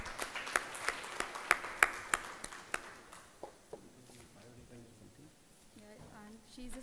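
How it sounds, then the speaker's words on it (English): A conference audience gives scattered, distinct claps that rise to a short, sharp run and then die away, leaving quieter room sounds and voices speaking. "Please welcome him with a good round of applause."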